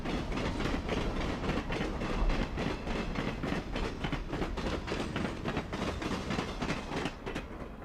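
A Union Pacific passenger train carrying a Southern Pacific coach and a Milwaukee Road Superdome rolls into the Hermosa tunnels in Wyoming, a loud, steady rumble with rhythmic wheel clatter throughout.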